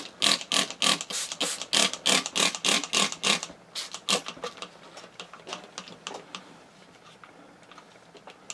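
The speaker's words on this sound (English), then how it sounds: "Now this is just water I'm spraying on this." A trigger spray bottle fires a rapid run of about a dozen even squirts of water onto stratifying shrub seeds, then slows into scattered, fainter sprays and drips.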